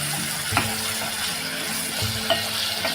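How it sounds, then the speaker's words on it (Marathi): Chopped onion sautés in a pan for a Maharashtrian amaranth leaf dish, a soft steady sizzle with a couple of light clinks from a spoon against the pan. "हा कांदा आहे तो आपण व्यवस्थित असा शिजवून घेणार आहोत।"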